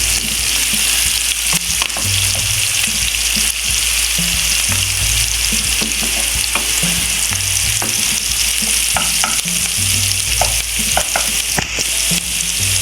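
Hot, capia and red peppers fry steadily in oil in a pan, a loud continuous sizzle with stirring clicks scattered throughout and no talking.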